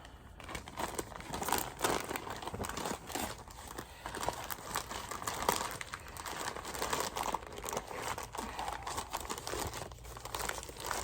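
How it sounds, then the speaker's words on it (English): Steady crinkling and crumpling of plastic packaging while cross-stitch kit materials on white 14-count Aida are put away, close and continuous with dense irregular crackles throughout, no talking. "Sorry for the crinkling."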